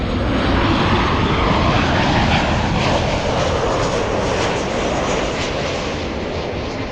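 A Lufthansa Airbus A380 takes off from LAX with a loud, sustained engine roar that fills the whole stretch and eases slightly toward the end as the jet climbs away; no voices.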